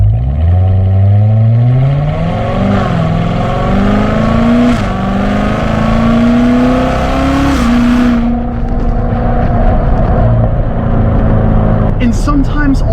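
Car accelerating hard off the line, a loud engine note climbing steadily in pitch through the revs before easing off, with speech over it.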